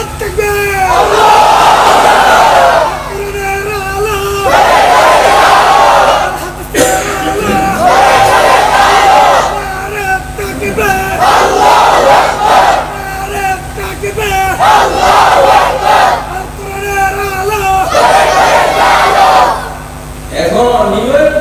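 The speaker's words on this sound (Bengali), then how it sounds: "নরমাল দুর্বল তাকবীর দিও না, কঠিন তাকবীর দিবা।" A large crowd at an Islamic sermon loudly chanting takbir, Allahu Akbar, in repeated roaring waves of voices with short pauses between each call.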